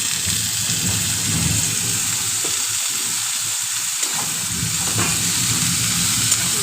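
Prawns and figs fry in spiced oil, giving a steady close hiss and soft crackle with occasional light stirring scrapes and no talk.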